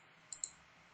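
A computer mouse gives a right click, two quick, faint, crisp clicks close together in an otherwise quiet room.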